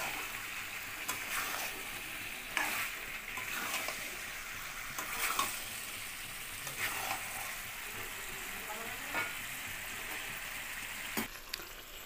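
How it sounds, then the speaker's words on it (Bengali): Potato pieces and chicken giblets sauté in a pan, a soft, fairly faint sizzle with intermittent stirring scrapes and clatter running throughout. "আলুটাকেও ওর সঙ্গে দিয়ে একটু কষিয়ে নেওয়া হচ্ছে"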